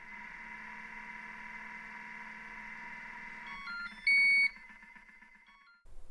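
A Thermomix heating ingredients on speed 2 gives a faint, steady motor hum, followed by a short series of bright electronic beeps before it falls quiet.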